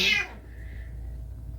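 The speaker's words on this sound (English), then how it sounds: "That was my cat." A house cat gives one short, bright meow at the start, fairly close, then the room falls to a quiet low hum.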